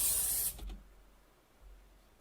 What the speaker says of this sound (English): Did she spray Pam on the food?